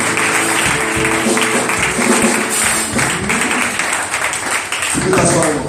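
Church congregation clapping and cheering to acclaim Jesus Christ, a steady roar of applause mixed with loud voices and music throughout.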